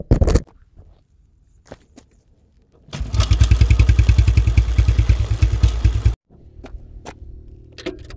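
A Yamaha FZ motorcycle in fifth gear gives a loud, close, steady rhythmic engine throb for about three seconds. Quieter engine ticking and clatter come before and after it.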